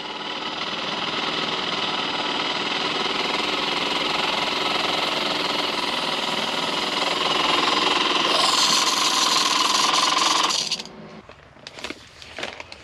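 Coffee machine heating and brewing inside a Volvo FH 500 truck cab, a loud steady pump drone with a rattling buzz for about ten seconds, then cutting off into quieter clicks and clatter.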